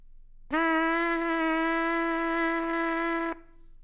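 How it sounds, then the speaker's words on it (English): One steady, sustained lip buzz through a brass instrument mouthpiece, starting abruptly, holding an even pitch for about three seconds, then stopping cleanly. "There's my nice buzz, easy buzz."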